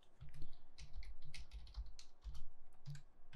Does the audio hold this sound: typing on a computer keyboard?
yes